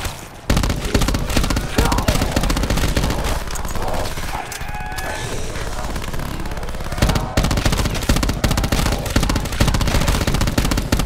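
Automatic rifle fire in Call of Duty Black Ops 4 sounds as dense, loud and close bursts that run almost without a break, with a short lull midway before the shooting starts again.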